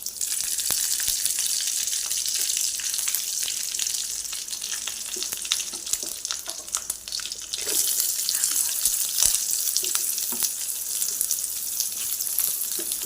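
Onions and dried red chillies temper in hot oil for a green pea sundal, a loud, continuous close-up sizzle and crackle with occasional stirring scrapes throughout.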